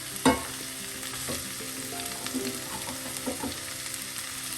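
Chopped green beans for a Kerala-style beans thoran dropped into a hot pan: a clatter as they land, then a soft continuous sizzle with light stirring scrapes, moderately quiet and close.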